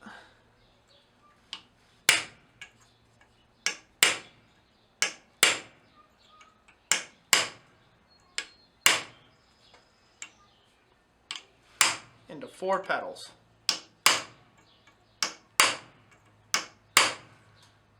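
A small hammer taps lightly on metal held in a vice, marking out a rosette rivet at a blacksmith's bench: a series of sharp, close, irregularly spaced strikes, with brief quiet talk in the middle.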